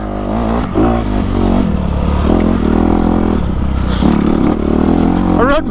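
A 2020 Honda CRF 250 RS dirt bike runs on singletrack trail at Lake Arrowhead OHV. Its engine hums steadily with a few revs and clatter, heard under someone talking throughout.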